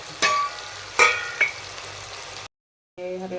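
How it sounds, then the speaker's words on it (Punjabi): Indian tempering spices (tadka) fry in a hot pan with a light sizzle and a few sharp metal clinks, then a brief cut to silence before stirring resumes. "ਲਓ ਜੀ ਆਪਣਾ ਤੜਕਾ ਭੁੱਜ ਗਿਆ"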